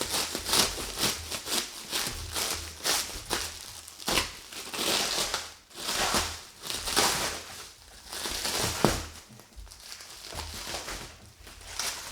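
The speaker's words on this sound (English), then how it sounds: "Okay, we'll take it out of the plastic." Thick plastic packaging crinkles and crushes as a 23Zero shower tent is pulled free, with dense, irregular crackling bursts close by that run continuously with brief pauses.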